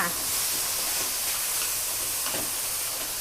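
Minced pork stir-fried with dried chilli and basil, a loud continuous hissing sizzle close by with faint scraping of the spatula underneath.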